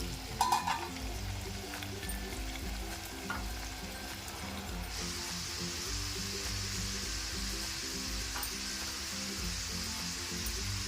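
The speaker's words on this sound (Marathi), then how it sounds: "म्हणून अशा पद्धतीने आपण थोडं झाकून मग तळायचे" Crispy corn kernels frying in hot oil in a partly covered pan, a steady close sizzle and bubbling that runs unbroken throughout with a few sharp pops near the start.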